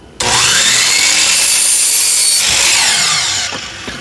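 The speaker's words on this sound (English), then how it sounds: "we're going to cut 2 9-inch pieces out of it" A power saw cutting a board into two 9-inch wood pieces, one loud continuous whining cut with a rising then steady pitch that slows and winds down near the end, close and dominant.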